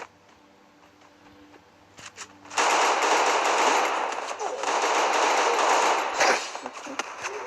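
Sustained rapid gunfire from the Free Fire battle-royale game: after a quiet opening with faint background noise, dense automatic bursts erupt and continue loud and close, with a brief dip before resuming.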